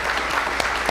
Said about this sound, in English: would you give these folks a round of applause?